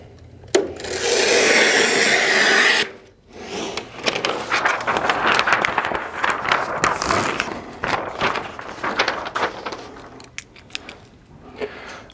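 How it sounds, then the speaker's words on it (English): A printer paper roll on an HP DesignJet XL 3800 is trimmed along the drawer's built-in cutting edge, making a loud continuous swishing slide of about two seconds, followed by softer rustling and handling of the paper. "There's a cutting edge on the drawer that you can use to trim the paper."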